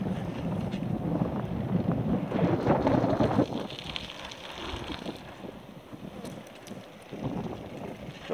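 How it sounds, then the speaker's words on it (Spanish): A southerly wind blows hard and steadily outdoors in Galicia during wildfires, with a continuous roaring rumble and gusty buffeting on the microphone. No voices are heard. "Sopla vento do sur."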